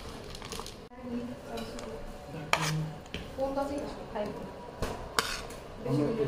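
Gorom gorom chanachur mix is shaken in a container, giving scattered rattles and clattering knocks in uneven bursts, with someone talking over it.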